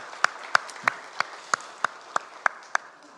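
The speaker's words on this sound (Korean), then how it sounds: "우리 성경 읽기에 승리하신 분들 우리 박수로 축하하겠습니다" A church congregation at a Sunday service claps in unison, about ten sharp, evenly spaced beats in a steady rhythm.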